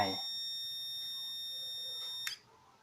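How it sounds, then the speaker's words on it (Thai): The speaker buzzer of a dark-activated LDR circuit sounds a steady high-pitched tone for over two seconds, then cuts off abruptly with a brief click. "เมื่อไม่มีแสงไฟ แสงมาตกกระทบ ไม่มีแสงมาตกกระทบ LDR ก็จะทำให้ ลำโพงเปล่งเสียงออกมานะครับ"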